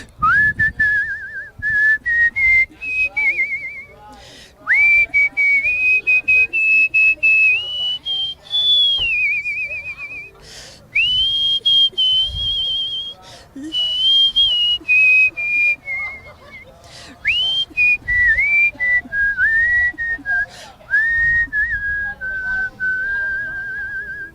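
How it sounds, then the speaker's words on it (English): A world champion whistler, a woman at the Pasadena Doo Dah Parade, whistles a bright, agile melody with sliding notes and trills, loud and close, in phrases separated by short pauses. "I'm a world champion whistler."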